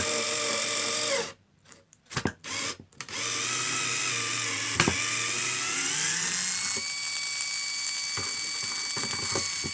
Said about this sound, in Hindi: इस वाले गियर मोटर से डीलिंग भी बहुत ही ज़्यादा अच्छा हो रहा है